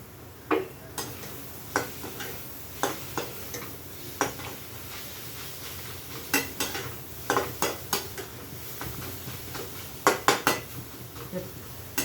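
A spoon scrapes and clinks against a pan as fried egg and mustard greens are stirred, in irregular metallic taps over a soft sizzle, close and steady throughout.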